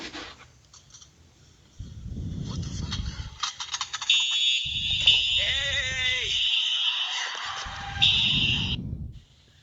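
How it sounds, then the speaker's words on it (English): A pulled fire alarm goes off after a few tugs, its shrill electronic ringing sounding steadily for several seconds, then cutting out, over people talking. "he pulls the fire alarm down, and it doesn't work, and he jiggles it, and then after 4 jiggles, it finally works"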